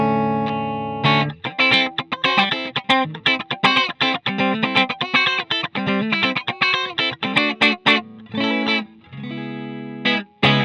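Electric guitar played through a NUX MG30 modeler on its jazz clean amp model, very clean and bright, with steady strummed chords and picked notes ringing for about ten seconds, loud and alone with no voices.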